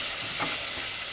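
A spoon stirs food in a pot, a steady close-up scraping and sizzling wash with a slightly stronger swirl near the middle and no voices.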